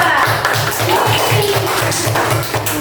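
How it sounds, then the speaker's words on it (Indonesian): Primary-school pupils in a classroom clap in a steady, rhythmic pattern of evenly spaced claps, loud and close, lasting the whole moment. "tepuk tangan kepada kelompok 2"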